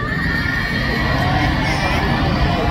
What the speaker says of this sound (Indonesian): Orang Bekasi teriak-teriak